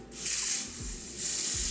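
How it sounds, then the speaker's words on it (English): Two quick bursts from a spray bottle onto wig lace, close and crisp, each a short airy hiss with a brief pause between them. "so I'm just gonna go ahead and spray."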